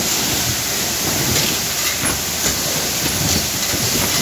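Corn unloading from a grain truck at a grain warehouse in Santarém, Pará: a continuous loud hiss and rush of pouring grain, with faint rhythmic machinery clatter underneath.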